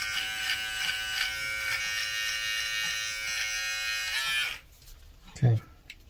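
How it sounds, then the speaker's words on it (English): A Brightup rechargeable electric precision trimmer runs with a steady, close buzz for about four seconds, then cuts off. A short thump follows in the quieter tail. "let's continue with the precision trimmer"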